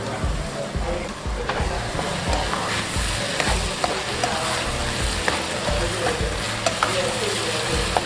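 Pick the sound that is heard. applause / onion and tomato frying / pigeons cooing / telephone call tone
onion and tomato frying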